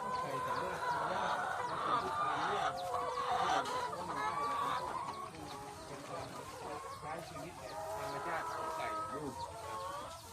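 Chickens cluck and call steadily, close by, in a small backyard flock of about forty chickens and ducks. A voice speaks faintly underneath the bird sounds.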